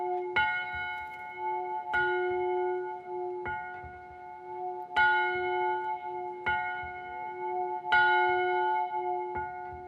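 A church bell in a French village rings out alone in clear, resonant strokes roughly every one to two seconds, each strike leaving a long ringing decay.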